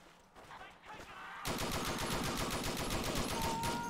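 Rapid automatic gunfire from the World War II-era video game Forgotten Hope, starting after a quieter stretch and then rattling continuously in dense bursts at close range, loud and sustained.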